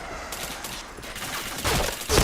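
Gunfire bursts from the shooter game Point Blank during a live match, dense broadband rattles building toward louder shots near the end, with no talking.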